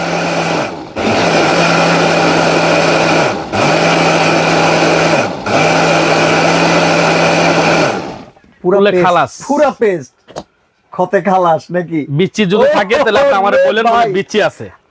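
A 4-in-1 food processor's blender motor whirs loudly, blending chillies in three long runs separated by brief pauses, then cuts off as a person starts talking.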